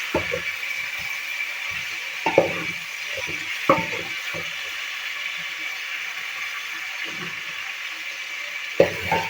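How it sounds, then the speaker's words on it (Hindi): Chicken frying in a pan of hot oil, a steady close sizzle running throughout, broken by a few scattered clanks and scrapes of a utensil against the pan. "ये चिकन भी हमारा अच्छी तरह से फ्राई हो चुका है।"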